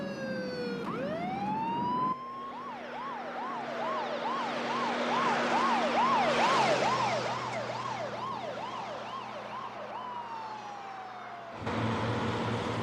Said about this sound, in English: here comes the ambulance off the interstate